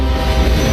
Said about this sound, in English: a railroad. A train.